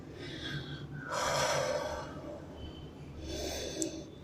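Slow, audible breaths from someone holding a yoga headstand, with a long, noisy inhale followed later by a second drawn-out breath, close and fairly soft with no talking.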